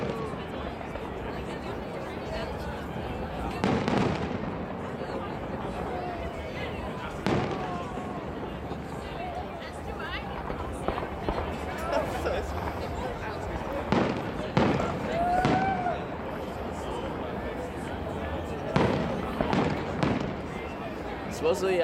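Canada Day fireworks in Victoria, BC, in 2009 give scattered bangs and pops at a distance over a steady outdoor crowd murmur, with people chatting nearby.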